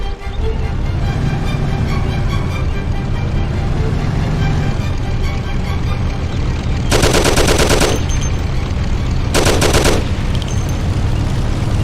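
Thompson submachine gun fire in the Mafia remastered game, set against a loud rumbling car engine with two sustained bursts of rapid automatic fire, the first about a second long and the second shorter, close and dominant.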